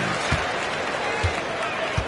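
A crowd of Detroit Pistons fans cheers at a basketball video game matchup, a steady wash of arena noise with a few dull thumps at intervals.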